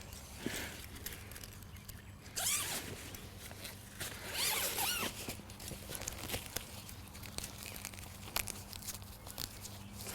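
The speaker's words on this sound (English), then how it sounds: "if you just unzip the mesh" The mesh of a fishing mat is unzipped in a few quick zipping bursts among rustling and handling noises, fairly close and with no talk.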